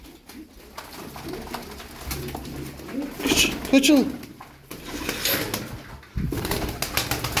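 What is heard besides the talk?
Kepez tumbler pigeons cooing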